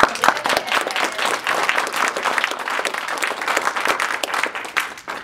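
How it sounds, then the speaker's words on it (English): Dense, lively applause from a conference audience at a leadership meeting, many hands clapping at once in a continuous crackling burst that holds steady throughout at close, loud level. "Let's applaud."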